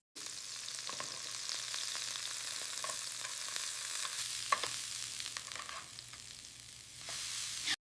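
Beef steak sizzles in hot oil in a pan, a steady close crackling fry with occasional louder pops and spatters, heard alone without talk.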